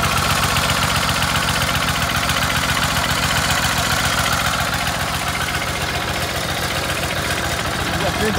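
An old Chicago Electric 6.5 HP generator engine runs with a fast, steady thumping beat, loud and close, while voices talk over it.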